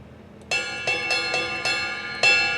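A bright ride cymbal bell from Addictive Drums software struck six times in an uneven rhythm, each ping ringing briefly, clear and close with no voices.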